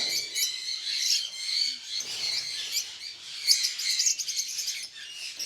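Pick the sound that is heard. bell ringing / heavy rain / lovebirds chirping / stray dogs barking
lovebirds chirping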